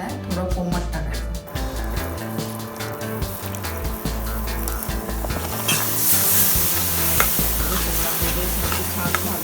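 Gram flour roasting in a hot pan as a little warm milk is poured in for besan ladoo, sizzling and hissing under steady scraping stirs of a spoon, fairly loud and close.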